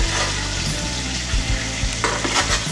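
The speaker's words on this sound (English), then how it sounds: "just tip the tray into the corner so the oil pools nicely. And then you just spoon a bit on it." Hot oil in a roasting tray sizzling loudly as it is spooned over roast chicken, a close, crackling fry with low metallic knocks from the tray and spoon.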